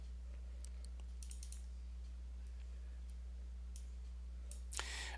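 A computer mouse clicks a few times in scattered, quiet taps over a steady electrical hum, with a slightly louder cluster of clicks near the end.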